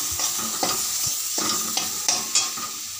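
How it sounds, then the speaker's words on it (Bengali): Spice masala fries in a pan while a utensil stirs and scrapes it, giving a soft sizzle broken by several distinct scraping strokes and knocks, close and unaccompanied by speech. "এইদিকে আমার মশলা কষানো হয়ে গেছে"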